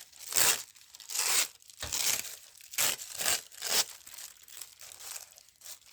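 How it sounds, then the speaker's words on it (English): Paper being torn by hand for a collage, a series of close, crisp ripping and crinkling bursts repeating every second or so, loud and dry with short pauses between pulls. "So I'm just going to tear a piece off."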